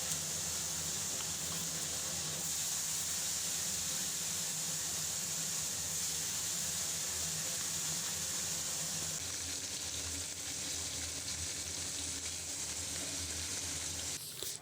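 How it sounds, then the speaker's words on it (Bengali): Sole fish frying in hot oil, a continuous broad hissing sizzle that holds steady and fairly faint for about fifteen seconds, with a brief clatter at the very end and no speech. "এখন আমি একটা একটা করে সবগুলো মাছ ভেজে নেব"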